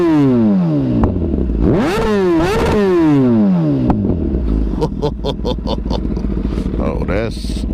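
A 2020 Kawasaki ZX10R sport motorcycle fitted with an Akrapovic link pipe and slip-on exhaust revs hard several times, engine pitch sweeping up and down before settling into a crackling, popping idle, loud and close.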